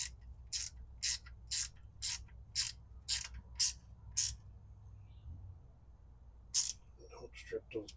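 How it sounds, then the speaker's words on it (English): Plastic screws are driven into a golf cart wiring harness with a power driver, giving a series of sharp, evenly spaced ratcheting bursts close up, then a pause, another burst and brief faint talk at the end. "Don't strip those plastic screws."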